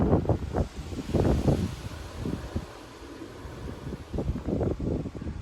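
Strong 40 mph wind gusts sweep through a Frisco, Texas neighborhood during a severe weather outbreak, with surging low roaring buffets on the microphone and rustling trees rising and falling in waves.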